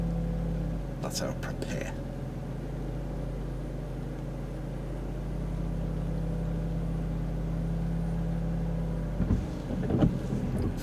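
A learner car's engine held at steady raised revs with the handbrake on during a driving lesson, a constant droning hum throughout, with quiet talk from the instructor and learner over it.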